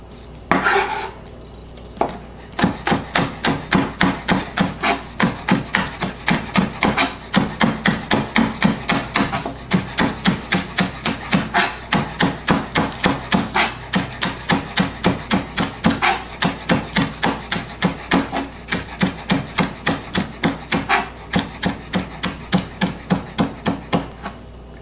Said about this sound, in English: cut your onion.